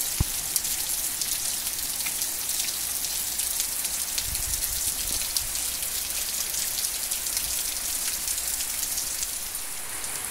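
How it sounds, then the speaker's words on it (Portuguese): Heavy rain pours onto a construction site where work carries on, a dense, constant hiss of drops hitting surfaces close by, with a few duller thumps underneath and no voices. "A chuva é muita, viu?"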